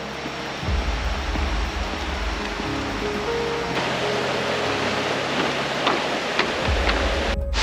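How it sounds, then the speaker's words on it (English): A stream in Bali flows steadily nearby, a broad hissing wash of rushing water with low rumbling underneath and no voices. "Just a stream of water."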